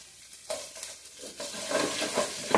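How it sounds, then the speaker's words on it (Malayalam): A handful of onions dropped into hot ghee with raisins for ghee rice, sizzling and frying steadily, with the hiss growing louder and denser toward the end, alone without talk. "ഉള്ളി ഇട്ട് കൊടുക്കുക കേട്ടോ."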